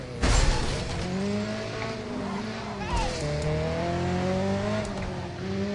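An Audi racing in Driver San Francisco, its engine revving with rising and falling pitch through gear changes, loud and close with a sharp burst at the start and a brief tire squeal.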